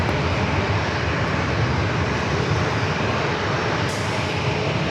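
A JetBlue Airbus A321 airliner takes off at San Diego airport, its engines a loud, steady broadband roar that holds constant throughout, with no talk over it.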